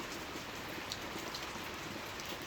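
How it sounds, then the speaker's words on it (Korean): Steady rain pours onto a rural country house and its front yard, a dense continuous patter with no voices. "빗소리 맞으면서"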